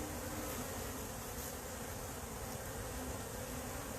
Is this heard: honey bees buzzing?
yes